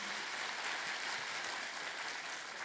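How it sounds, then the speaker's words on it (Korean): Seminar audience in Hong Kong clapping for a speaker, a dense, even wash of many hands sustained without a break across the short stretch. "박수 한번 부탁드립니다."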